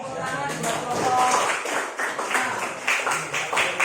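Clapping from a small group in a classroom-style training session, scattered hands tapping in an uneven patter, moderately close and fading in and out.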